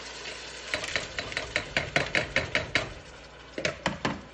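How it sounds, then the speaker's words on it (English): A spoon stirring lentils with tomatoes and green chilies in a pot, a series of rhythmic wet scrapes and clacks against the pot under a faint simmer, close and without talk. "I'm gonna stir that together because I want the seasonings to stick to my tomatoes and my lentils"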